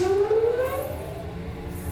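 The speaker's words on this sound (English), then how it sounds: "And then the fan that draws this air through and out sounds like this." A coffee roaster's exhaust fan drawing air through the drum and out, a loud steady whine that rises in pitch over a low rumbling hum, heard alone.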